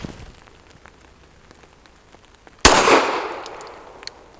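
A single sharp pistol shot from a BUL Armory Ultralight with a short 3.25-inch barrel, firing Ammo Inc 165 grain ammunition; one loud crack with a ringing outdoor decay, preceded by quiet rustling.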